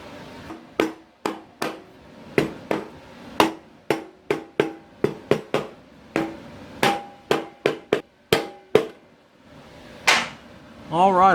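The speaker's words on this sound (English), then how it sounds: "Let me peck on it just a little bit with a hammer." A series of sharp metallic hammer taps on a 1975 Chevrolet C20 engine part, irregularly spaced, about twenty strikes, close and loud, with a brief voice at the end.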